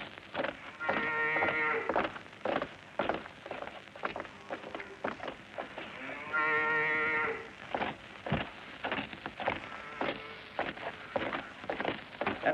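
Cows mooing in the French countryside, two long drawn-out lows several seconds apart and close by, over a steady patter like rain on a surface.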